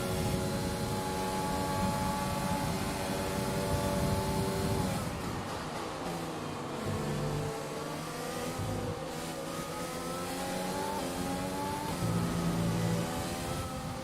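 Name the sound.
race car engine accelerating in F1 2020 video game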